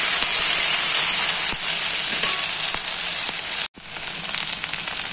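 Onion frying in a pan gives a loud, continuous sizzle with faint crackles and stirring, broken by one brief silent gap before the hiss comes back.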